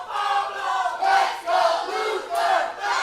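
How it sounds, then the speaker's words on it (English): A wrestling arena crowd roars and chants in steady, loud surging waves, the cheering split between two fighters and swelling again every second or so. "Half this crowd cheering for Pablo, half this crowd cheering for Luther"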